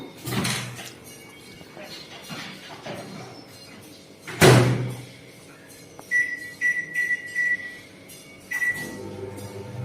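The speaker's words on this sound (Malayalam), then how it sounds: "ഇനി നമ്മൾ മൈക്രോവേവ് ഓവനിൽ വെക്കാം." A microwave oven is loaded and started, with a door clunk, a sharp bang from the door closing, then a series of short electronic beeps from the keypad before a hum.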